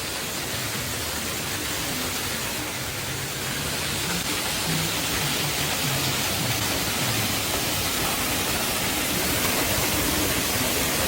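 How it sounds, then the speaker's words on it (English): A waterfall beneath the Tree of Life at Walt Disney World gives off a loud, constant broadband roar with no break. "you got this kind of beautiful view of a waterfall here"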